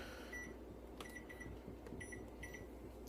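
Kitchen timer set for a cake going into the oven: a few short electronic beeps sound in quick clusters over a steady low hum, fairly faint and with no one talking.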